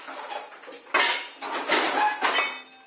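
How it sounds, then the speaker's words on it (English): Metal pot and lid handled in a home kitchen while cooking Sloppy Joe, several sharp clanks and clinks in quick bursts, close and fairly loud. "it probably would help to put a lid on it"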